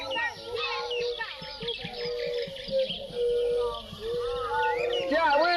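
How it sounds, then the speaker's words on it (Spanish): Soft birdsong and chirping insects fill a forest at dawn, many overlapping calls and tweets chattering continuously at moderate level, with a steady insect hum underneath. "Qué suaves los sonidos de los pájaros e insectos en el monte que está por despertar"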